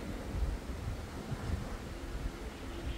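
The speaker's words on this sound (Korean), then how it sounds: "언덕 위에 바람이 아주 보통 세게 부는 게 아니기 때문에" Strong wind blowing across an exposed hilltop, a steady low roar and buffeting rumble that fills the whole stretch without letting up.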